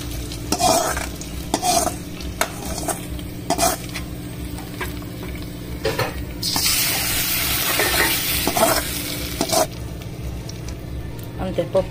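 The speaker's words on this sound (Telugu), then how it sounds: "బాగా వేయించుకున్న తాలింపుని పప్పులోకి వేసుకోవాలి." Fried tempering poured into cooked dal sizzles in short crackling bursts between stirring scrapes, fairly close and loud, over a steady low kitchen hum.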